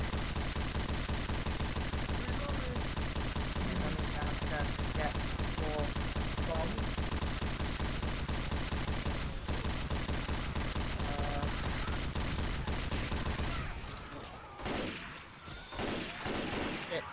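Gunfire rings out in the zombie shooter Left 4 Dead 2. Dense, continuous rapid shots and game noise fill most of the stretch, then thin into scattered bursts near the end.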